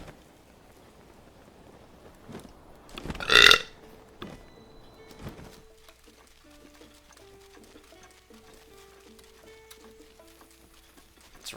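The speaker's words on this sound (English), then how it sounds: "My burps all smell like Popeye's onion rings." A single loud, close burp stands out early, with a few fainter clicks and taps around it, then quiet high electronic tones from The Legend of Zelda: Breath of the Wild running in the background over the rest.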